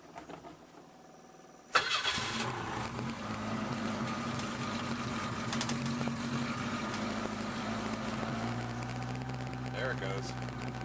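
A 1976 Chevette with a 1.4L engine and automatic transmission cranks after quiet pumping, then fires into a loud, rough, unsteady idle that roars close by and settles; someone talks throughout.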